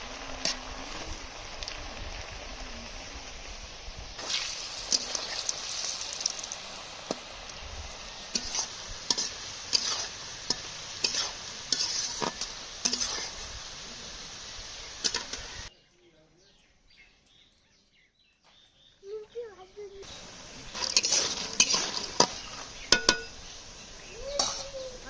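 Nimki frying in hot oil, a close, steady sizzle with stirring clatter and spoon knocks, broken by a few seconds of near silence before the frying resumes; birds chirp faintly in the background.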